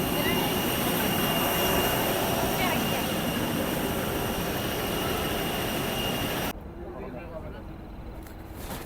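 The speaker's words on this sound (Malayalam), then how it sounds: "ഇതാണ് നമ്മളുടെ ഫ്ലൈറ്റ്" A loud, steady roar of an airliner's jet engine at an airport fills most of the clip, then drops abruptly to a quieter background hum.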